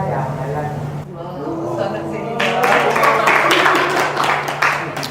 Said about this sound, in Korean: 박수까지 받고 그럼 나도 한번 해야 되겠다